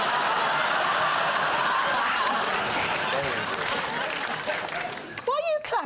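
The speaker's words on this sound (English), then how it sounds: "Why are you clapping?" A studio audience claps steadily in a dense wash of applause mixed with some laughter. The sound tapers off toward the end as a voice begins speaking.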